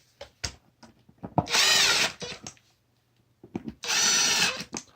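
A power driver runs screws into the blower motor of a 1986–89 Honda Accord, two sustained whirring bursts separated by handling clicks and taps, close and fairly loud.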